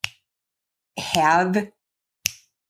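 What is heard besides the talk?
finger snapping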